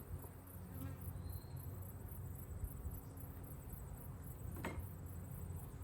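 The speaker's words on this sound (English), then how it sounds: "Bees everywhere." A dense, steady hum of many bees buzzing close around an opened backyard beehive, continuous and droning with no talk.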